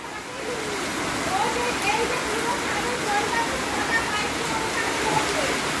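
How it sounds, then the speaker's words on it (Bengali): Rainwater pours and drips steadily through a cracked roof during Cyclone Remal, a continuous close splashing patter with light spatters on top and faint background voices. "এখান থেকে জল পড়ার কথা নয়, তবু জল পড়ছে।"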